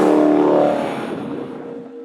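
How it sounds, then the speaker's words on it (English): A Dodge SRT Hellcat Challenger pulls hard under acceleration, its supercharged engine roaring with a steady whine that fades as the car moves away over about two seconds. "I'm willing to give up a little bit of handling for that intoxicating supercharger whine"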